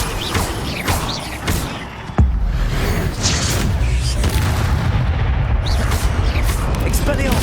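A fire spell cast in the Hogwarts Legacy video game, fought against spiders: a sharp whoosh and thump about two seconds in, followed by a sustained roaring crackle of flame and combat noise that fills the rest of the clip.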